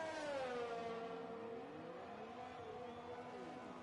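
A Red Bull Formula 1 car in the F1 2020 video game runs down the pit lane with a steady, high engine whine that sweeps smoothly downward in pitch, fairly quiet and alone.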